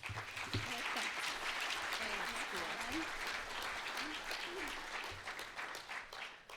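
Audience applause welcoming a speaker onto the stage at a TED-style talk, a steady wash of clapping that holds for several seconds, with brief voices audible under it.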